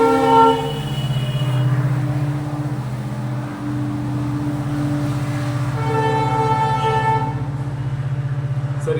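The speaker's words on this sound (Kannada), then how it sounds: "ಟ್ರೈನ್ ಹೋಗ್ತಾ ಇರೋದು" A nearby train rolls past with a loud, continuous rumble of wheels and cars, and sustained tonal horn blasts sound over it at the start and again later.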